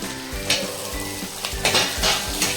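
Brinjal, both striped and plain, frying in a little oil for vegetable sambar, giving a continuous close sizzle with several scraping stirs and clinks of a spoon against the pan, no voices.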